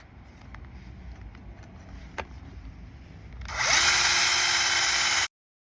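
After some faint handling and a sharp tap, a power drill bores a hole through a hoe handle for a bolt, whining loudly up close for about two seconds before stopping abruptly.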